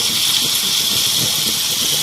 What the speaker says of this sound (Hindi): इसको यहाँ पे शैलो फ्राई करना है।